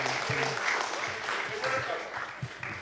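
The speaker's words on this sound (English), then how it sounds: "That deserves a round of applause." An audience at a theater comedy show applauds to mark a birthday, with brief, close clapping as voices talk over it.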